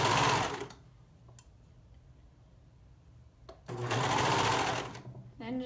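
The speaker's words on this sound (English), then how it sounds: "I'm just letting the serger feed the main fabric through," Serger sewing machine stitching main fabric for a swing dress, whirring in two loud close bursts separated by a quiet pause, with a short faint clack in between.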